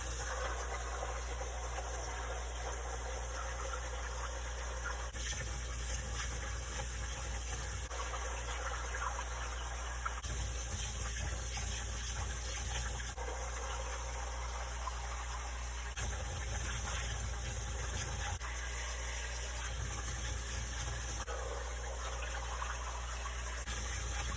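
Cold tap water pouring steadily while starchy food is rinsed, a constant close gushing hiss through the whole span, with faint handling sounds coming and going underneath.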